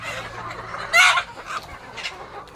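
Desi and Sonali chickens cluck nearby, with one louder squawk standing out among the flock's steady background chatter.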